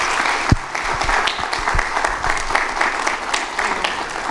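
Standing applause from an audience at a Birmingham civil rights conference, dense clapping that fills the hall steadily throughout, with a few louder claps standing out near the front.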